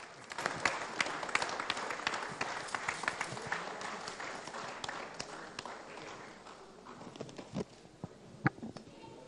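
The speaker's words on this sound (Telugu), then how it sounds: "ఒకసారి అందరూ గట్టిగా క్లాప్స్ కొట్టాలి ప్లీజ్ ఎవ్రీబడీ" A crowd applauds at the Kaadhali movie audio launch, starting as a dense burst of clapping that gradually thins into scattered individual claps, with faint voices in the hall.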